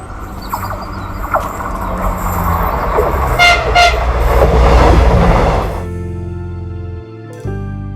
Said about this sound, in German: Jetzt kommt der Zug.